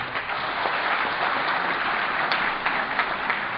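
An audience at an Urdu poetry mushaira in Qatar claps steadily to welcome a poet, a continuous even patter of many hands at moderate volume.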